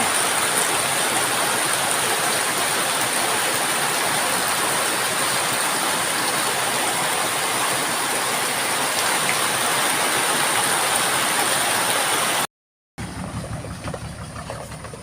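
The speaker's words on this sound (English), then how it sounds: "absolutely spectacular, a rainy afternoon" Steady rain falling on an afternoon in the Philippine countryside, a dense, even hiss of drops on surfaces that runs unbroken, cuts out briefly near the end, then resumes.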